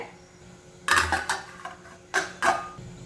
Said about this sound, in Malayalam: ഒന്ന് 2 പ്രാവശ്യം ഒന്ന് ഇളക്കി കൊടുക്കുക.